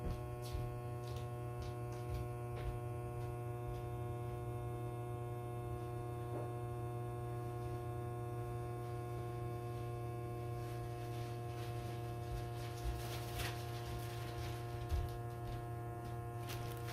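A small USB electric pump runs steadily, drawing air out of a travel compression storage bag with a continuous low electrical hum that stays even throughout, with faint rustling of the bag now and then.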